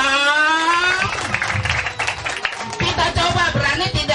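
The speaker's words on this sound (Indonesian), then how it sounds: "Tepuk tangan dong." Clapping at a birthday party, a burst of scattered hand claps running through the whole stretch alongside a voice singing or calling out over it.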